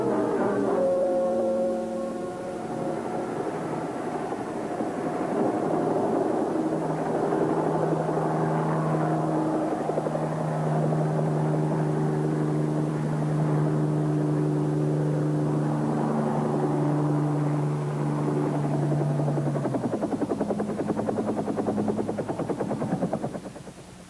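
A helicopter flies nearby with a steady droning engine and rotor hum that holds constant for over twenty seconds, then cuts off near the end, with no talk.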